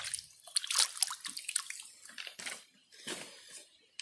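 Water splashes and trickles over a fossil horn coral with an attached brachiopod in its rock matrix as it is rinsed, coming in irregular close bursts of splashing and dripping with brief quieter gaps.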